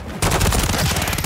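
Rapid gunfire in a shooter video game, a dense burst of repeated shots that starts abruptly after a brief lull and continues loudly and steadily throughout.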